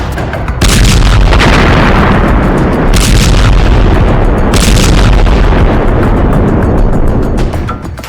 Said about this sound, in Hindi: गाजा सिटी बना कब्रिस्तान, 500 पाउंड के गिरे बम।